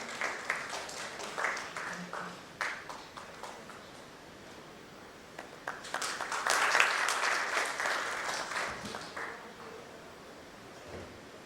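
A conference audience at a leadership summit claps, rapid hand claps building into steady applause that swells midway and then tapers off, heard at a moderate distance in a hall.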